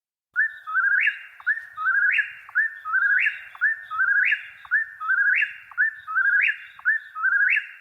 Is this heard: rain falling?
no